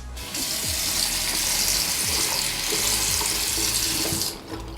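A stainless steel squeegee is rinsed under a running tap, giving a steady, close, broadband rush of water into a sink that runs nearly the whole time before cutting off at the end.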